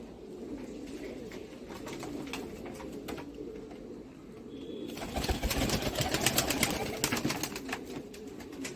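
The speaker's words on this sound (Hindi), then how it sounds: "ये देखें यहाँ पर कबूतर।" Tonk breed pigeons in a breeding loft cooing close by, repeated soft throaty coos swelling and overlapping, growing busier and louder in the second half, with no talk.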